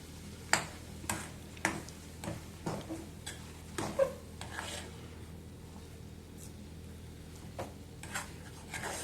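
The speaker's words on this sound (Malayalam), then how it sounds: "വെള്ളമെല്ലാം വറ്റി നന്നായിട്ട് വരുന്നത് വരെ നമുക്കിത് ഇളക്കി കൊടുക്കണം" A Kerala-style breakfast mixture is stirred in a pan until its water dries off, giving a steady series of soft scraping ticks and taps against a faint low background hum.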